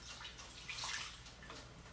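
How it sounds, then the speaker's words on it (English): Hot water pours down a drain in a steady, faint, splashing trickle, continuous throughout with a slightly louder swell midway and no talking. "Let's pour some hot water down."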